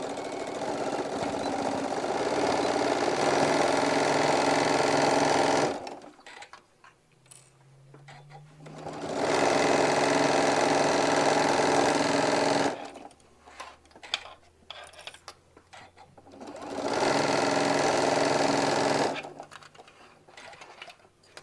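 A sewing machine stitches a bag pocket, back tacking at the top: a steady loud mechanical whir runs in three long bursts separated by pauses with ticking handling noises.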